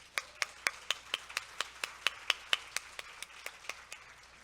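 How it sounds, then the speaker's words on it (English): A single person claims steadily at an International Women's Day event in Korea, about eighteen sharp, evenly spaced claps, fairly faint and distant, with no voices. "how about we give a big round of applause for our interpreters?"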